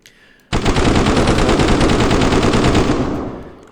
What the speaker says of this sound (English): If you fire, a little sound plays and an animation plays